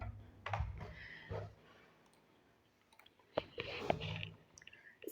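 Typing on a computer keyboard, a few close clusters of crisp key clicks separated by a quiet pause, loudest near the start and again in a busier burst toward the end.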